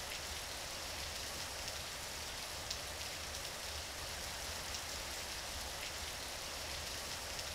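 Steady rain falls in the game Garry's Mod, a continuous dense hiss of drops on surfaces filling the whole stretch at an even level, with no voices.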